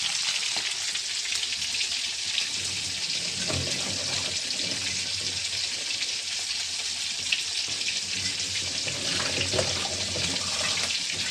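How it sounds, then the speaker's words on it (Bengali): Hilsa fish pieces frying in hot oil give a loud, steady, dense sizzle with crackling that runs unbroken throughout, close up and with no talk. "তাই ইলিশ মাছ ভাজা হোক, এর মধ্যে আমি কুমড়ো ফুল ভাজা চাপিয়ে দিই।"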